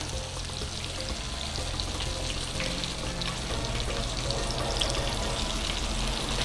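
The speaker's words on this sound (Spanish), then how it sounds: "Y vamos a freír las mortadelitas ahí." Mortadella slices frying in a pan give a steady, dense sizzle that holds at an even level from start to finish, with a constant low hum beneath it and no voices.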